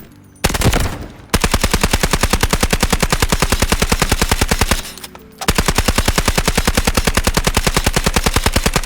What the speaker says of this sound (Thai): เอาละเรามาทดสอบปืนกันหน่อยดีกว่านะครับผม